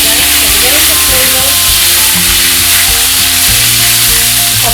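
Fresh mint, herbs and seasoning sizzle loudly in hot oil for coconut mint fried rice, a steady close frying hiss with scattered stirring clatters from a utensil against the pan.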